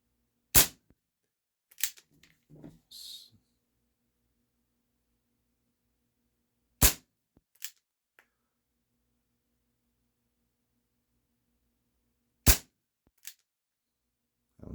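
Barra 1858 Cowboy BB pistol firing, three sharp separate cracks spaced several seconds apart with small clicks and handling noises between them, in an otherwise quiet setting.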